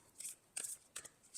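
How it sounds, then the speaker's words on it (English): Oracle cards being shuffled by hand in short bursts of soft riffling and slapping, three or four quick rustles close up and quiet, with no talk. "These ones are a little more difficult to shuffle"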